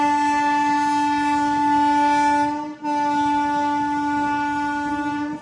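An Anantapur to KSR Bengaluru MEMU passenger train arriving at Dharmavaram junction sounds its horn in one long, loud, steady blast, broken only by a brief dip.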